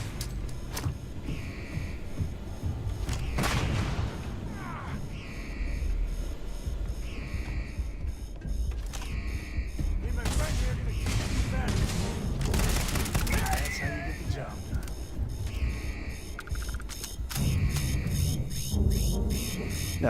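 Frag grenades burst in Starfield combat, several sharp explosive blasts punching through a steady bed of rapid gunfire and game noise, loud and close throughout.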